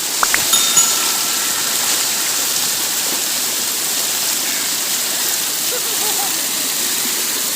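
Steady broadband rush of flowing stream water, constant and moderately loud throughout, with a brief knock near the start.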